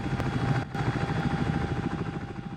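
CH-47 Chinook tandem-rotor helicopter heard from inside during flight, a loud, steady rotor and engine drone with rhythmic blade thumping throughout.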